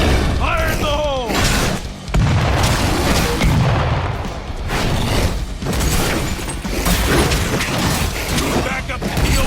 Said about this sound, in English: Throwing frag! Fire in the hole!